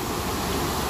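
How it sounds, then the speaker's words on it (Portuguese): Water surges from a burst dam in a dense, steady roar that fills the whole second with no break or voice. "É muita água, viu?"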